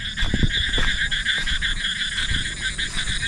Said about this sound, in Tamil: தவளையா ப்ரோ? பாருங்க தவளை தானே?